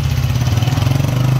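A motorcycle engine runs steadily close by, a loud, even throbbing idle with a regular pulse throughout and no voices over it.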